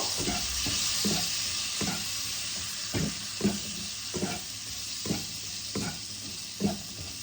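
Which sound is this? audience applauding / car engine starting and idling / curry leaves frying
curry leaves frying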